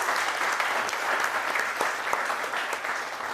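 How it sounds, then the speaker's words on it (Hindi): Enthusiastic audience applause at a theatre festival, honouring a lighting designer and director: a thick, continuous roar of many hands clapping, even and sustained without a break. "जोरदार तालियां"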